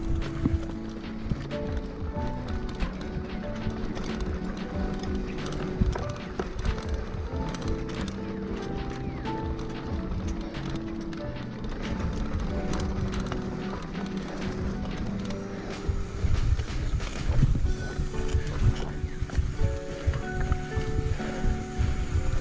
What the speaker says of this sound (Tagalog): Kabayo.